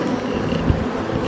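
Honeybees buzz steadily around an opened hive during an autumn inspection, a close, even droning hum with no speech over it.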